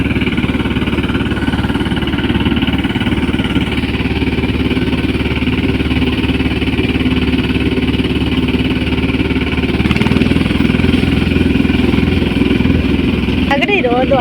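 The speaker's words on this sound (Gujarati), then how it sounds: "આ બાજુ સાઈડમાંથી હાલે છે ટ્રેક્ટર" A tractor engine drones steadily as it drives along the side of an onion field, a continuous mid-pitched rumble at constant loudness with people talking over it.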